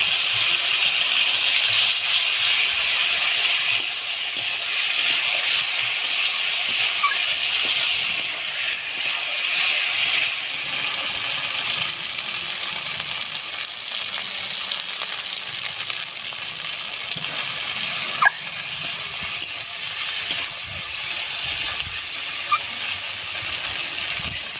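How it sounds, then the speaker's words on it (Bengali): Prawns fry in a pan with whole cumin and ginger paste, giving a dense, steady, close sizzle that runs unbroken throughout, with an occasional stir or light clink and no voices. "মশলার সঙ্গে চিংড়ি মাছটা সুন্দর করে ভাজা হয়ে গেছে।"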